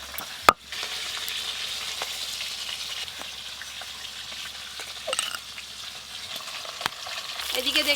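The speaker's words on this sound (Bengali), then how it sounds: "এদিকে দেখতে দেখতে সব মাছ ভাজা হয়ে গেল" Pieces of rohu fish fry in hot oil in a home kitchen, a steady close sizzle and crackle throughout, with a sharp knock near the start and a brief stirring scrape toward the end.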